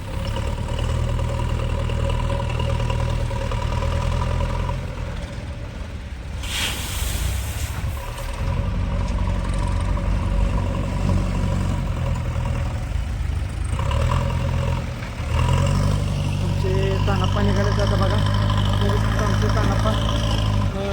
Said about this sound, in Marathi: ट्रॅक्टर घेऊन निघालं ते लाकडं वगैरे घेऊन लाकडं घेऊन निघालं